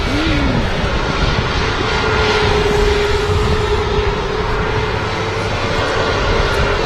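A British Airways A320neo jet rumbles with a steady, loud engine roar as it moves at Manchester Airport, the whine holding a constant pitch throughout with no voices.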